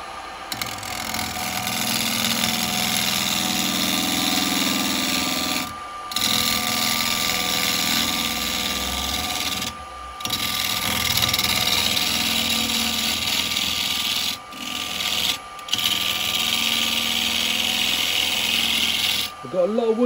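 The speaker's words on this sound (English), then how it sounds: "for this I'm going to use my short little bowl gouge here" Wood lathe turning a small cowboy hat shape while a short bowl gouge cuts the spinning wood, making a loud, close, steady machine whir with cutting noise and a few brief pauses.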